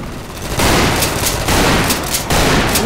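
Loud bursts of rapid video game gunfire in a shooter, with a sustained volley starting around half a second in and fresh bursts around 1.5 and 2.3 seconds, dense and close.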